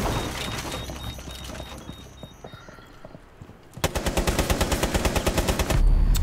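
Gunfire in Rainbow Six Siege: scattered shots and impacts at first, then a sustained rapid burst of loud automatic fire with heavy recoil, hammering steadily to the end.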